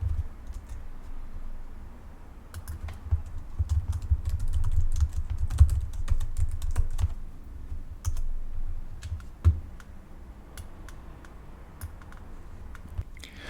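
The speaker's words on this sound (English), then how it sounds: "I'm going to type in a column header here" Keys clatter on a computer keyboard while a spreadsheet column header is entered, a steady run of close, light clicks with a few sharper taps and no voices.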